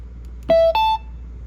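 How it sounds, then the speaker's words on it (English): A ham radio gives two short electronic beeps in quick succession, the second slightly higher in pitch, clear and close against quiet background hum. "Listen to that beep. That thing's terrible."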